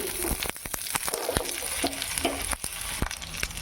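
Okra sizzles and spatters in a pan of hot oil with mustard seeds, a steady dense frying hiss broken by sharp popping crackles and a few stirring scrapes, close and continuous with no talk.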